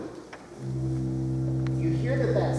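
A pipe organ's open harmonic flute stop sounding a sustained, steady, breathy tone that swells in after a brief pause and holds, fairly quiet and alone.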